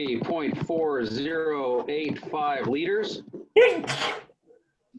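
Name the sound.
sneeze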